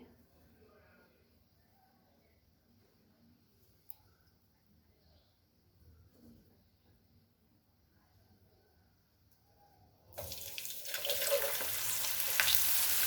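Homemade french fries dropped into hot oil for a deep fry, a sudden loud hissing sizzle bursting in near the end after a quiet stretch with faint background noise.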